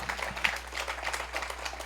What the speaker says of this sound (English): You can, yes, certainly clap for that.